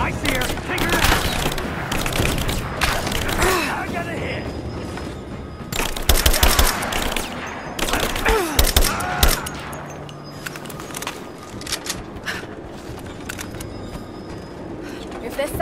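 Automatic gunfire in the Rise of the Tomb Raider video game rattles in loud bursts, near and dense, with shouted voices in between before the shooting fades to quieter ambience.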